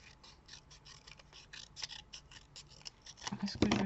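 Scissors snip through paper for a handmade card, a quick run of sharp, close cuts in an uneven rhythm with a louder burst of snipping near the end.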